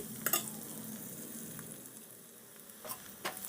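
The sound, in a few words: frying crushed ginger and garlic in oil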